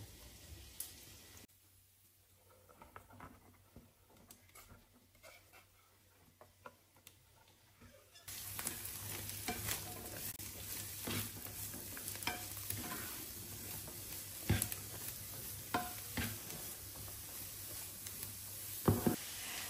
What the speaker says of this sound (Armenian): Մինչ տապակվում է սունկը